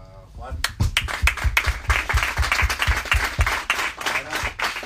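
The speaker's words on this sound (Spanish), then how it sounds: "Un aplauso a Juan." Audience applause after a book presentation, a dense burst of many hands clapping close by that swells quickly and holds, with people speaking over it at the start.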